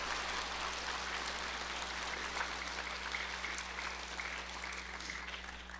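Steady applause from an audience at a middle school DARE graduation, fairly faint and distant, filling the room continuously over a constant low electrical hum.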